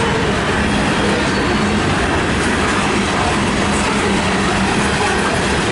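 A CN freight train hauling many lumber cars passes westbound in Battle Creek, Michigan, producing a loud, steady roar of wheels on rails with rhythmic clickety-clack throughout.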